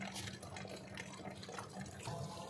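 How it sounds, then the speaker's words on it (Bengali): Water from a tap pours steadily into a container in hot outdoor heat, a continuous close splashing gush with no talk. "দেখেন পানি ভর্তি করছি আমি।"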